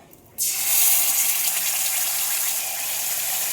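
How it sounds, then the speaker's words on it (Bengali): Water from rinsing a bowl poured into a hot cooking pan of ground ginger, cumin, coriander and dried chilli paste, a sudden loud gushing sizzle that holds steady and close. "বাটি ধোয়া জলটাও দিয়ে দিলাম"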